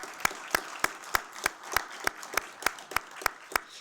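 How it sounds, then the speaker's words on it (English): Applause at a pitch competition finals workshop session: a small audience claps in a steady rhythm of about a dozen distinct, fairly loud hand claps, with no talk over them. "let's give them a round of applause"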